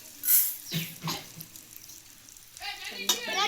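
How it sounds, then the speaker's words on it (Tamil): Water is poured into a pot of rice with sautéed tomato and spices, a brief splashing gush with some clatter and a faint voice nearby. "தண்ணி ஊற்றிக்கலாம்."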